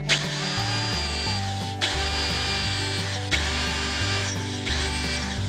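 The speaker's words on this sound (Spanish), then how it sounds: "Para la figura de yeso vamos a utilizar esta otra broca, que es un ligero más delgada que la alcayaca." A power drill with a bit slightly thinner than the one used for wood bores holes into a plaster figure, whirring in repeated short bursts with brief pauses between them, close and steady, with no voices.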